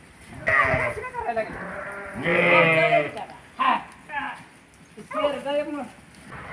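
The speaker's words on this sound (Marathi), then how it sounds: "मेंढ्या आलेत या साईडला" Several sheep bleat close by in wavering, drawn-out calls, some overlapping, with short pauses between them.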